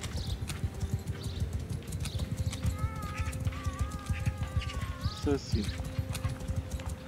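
Horse hooves from the video game Mount & Blade II Bannerlord, a rhythmic clip-clop running steadily under someone talking, with a brief tonal game sound partway through.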